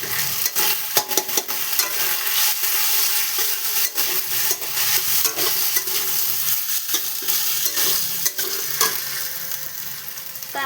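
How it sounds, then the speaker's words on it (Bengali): A ground spice paste with chili powder fries in a pan, giving a loud, continuous sizzle broken by repeated scraping and clattering strokes of a stirring spoon, close by, no voices. "এই বাটা মশলাটা ছেড়ে দিচ্ছি। এই তো লঙ্কার গুঁড়োটা উঠিয়ে সুন্দর করে আবার এটার মধ্যে ছেড়ে দিচ্ছি।"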